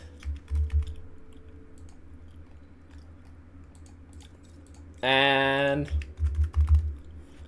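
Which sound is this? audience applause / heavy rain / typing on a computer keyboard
typing on a computer keyboard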